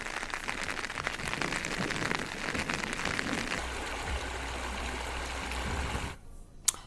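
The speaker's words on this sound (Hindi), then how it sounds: "इस मौसम में बारिश हो रही है, मौसम सुहाना जरूर है" Rain falling in Tehri, Uttarakhand, a steady broad hiss of drops with a low rumble partway through, then cutting off near the end before a brief knock.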